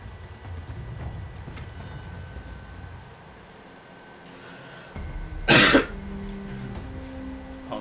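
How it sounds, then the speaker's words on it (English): A single harsh cough bursts out near the microphone after a few seconds of quiet room tone, loud and brief against a faint background. "Apologies for the cough"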